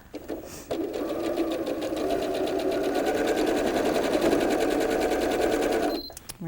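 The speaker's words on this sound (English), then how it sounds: "take that to your sewing machine." A sewing machine stitches quilt block fabric, whirring steadily for several seconds, a fast, even mechanical buzz that starts abruptly and stops just as sharply, close by.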